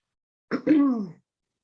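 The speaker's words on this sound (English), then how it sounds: "And I apologize for clearing my throat." A single close throat clearing, a short catch followed by a longer rough, voiced rasp, then silence.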